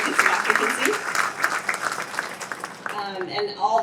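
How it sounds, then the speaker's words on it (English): Applause from a crowd at the opening of a DART Silver Line rail station at UTD, steady clapping over nearly four seconds with a few voices mixed in, sharpening into closer, crisper claps toward the end. "She deserves every bit of that applause."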